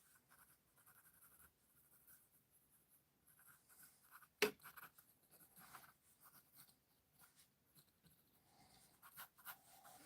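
Pencil sketching on paper during an everyday drawing session, with soft continuous scratchy strokes, close and quiet, punctuated by one sharp tap mid-way and fuller bursts of shading toward the end.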